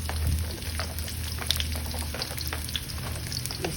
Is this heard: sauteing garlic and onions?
yes